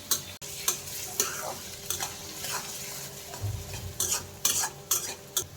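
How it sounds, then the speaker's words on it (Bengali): Chopped onion frying with cardamom, bay leaf and cinnamon in a pan, stirred with a utensil in repeated close scraping strokes over a soft steady sizzle, without any talking. "এভাবে পেঁয়াজটা একটু ভাজা নিতে হবে।"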